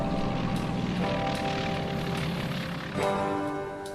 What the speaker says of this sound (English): Cargo planes flew in more freight, landing on frozen lakes.